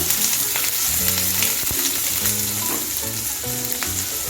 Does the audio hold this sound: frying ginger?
yes